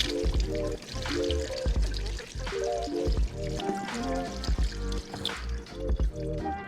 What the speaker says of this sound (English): So I'm going to drain the soy curls, and then I'm going to give them a quick rinse.